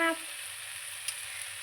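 A masala mixture for cashew paneer is stirred in a frying pan, giving a steady close sizzle with a brief scrape of the spoon near the start and another faint clink partway through.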